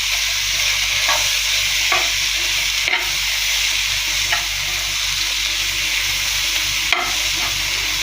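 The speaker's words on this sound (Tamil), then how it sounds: "இப்போ நம்ம நறுக்கி வச்ச வெண்டைக்காயை அதோட போட்டுக்கணும். போட்டுக்கிட்டு இந்த மசாலாவோட கிண்டிக்கணும்." Chopped okra stirred into masala in a hot pan, continuous close sizzling and frying with occasional scraping stir strokes, steady and fairly loud with no talking.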